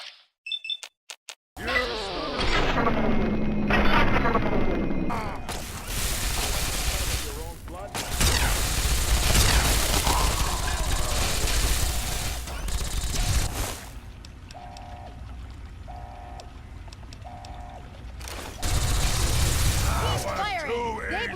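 Heavy gunfire and explosions in the Fallout 3 video game, long loud barrages with booming blasts broken by short quieter gaps, while game voices speak over the action.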